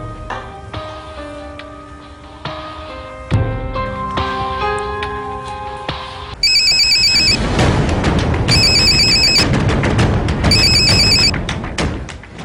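A telephone ringtone plays, first as a melodic tone sequence, then a bright electronic ring repeating in regular bursts, loud and close, with no talking.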